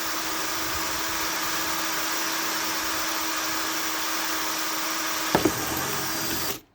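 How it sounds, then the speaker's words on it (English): An electric drill fitted with a woodworking bit bores a hole while building a chicken waterer and feeder, giving a steady, continuous whirring drone for about six seconds that ends abruptly after a couple of brief clicks. "let the drill cut through"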